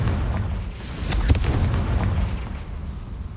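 A Confringo blasting spell explodes in the video game Hogwarts Legacy, a deep booming burst with a sharp crack at its peak that rumbles away over a few seconds.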